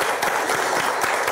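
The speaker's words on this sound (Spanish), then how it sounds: "que aplauso fuerte, gordo" A village audience in Limés, Cangas del Narcea, Asturias, breaks into strong applause, a brief burst of dense clapping heard close and fairly loud.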